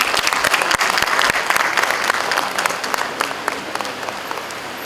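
An audience at a college accreditation celebration claps steadily. The applause is dense and sustained, then thins and softens slightly toward the end.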